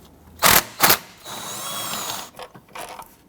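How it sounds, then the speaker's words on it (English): A ratchet with a 10mm socket and extension loosens bolts on a 2006-2010 Hummer H3 3.7L engine, two loud close ratcheting bursts followed by a longer rapid clicking run and a few fainter clicks. "Use your 10mm socket and extension."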